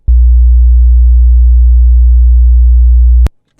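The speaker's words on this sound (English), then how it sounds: "So very simple sine wave at 60 Hertz at the amplitude that we set." A steady, loud 60 Hz sine wave test tone hums continuously for about three seconds, starting and stopping abruptly with a brief click at the cutoff, with no other sound.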